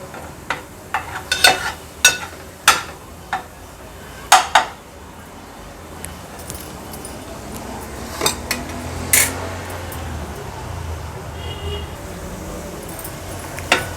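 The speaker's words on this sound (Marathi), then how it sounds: "आता मसाले आपण या वाटणासोबत छान तेलावर परतून घ्यायचे" Ground masala paste sautéing in oil in a pan for a fish curry, soft continuous sizzling under repeated sharp clinks and scrapes of a utensil against the pan.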